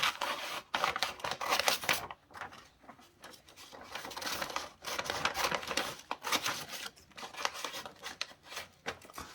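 Scissors snip through paper in a busy run of crisp, scratchy cuts, close and fairly loud, broken by a few brief pauses.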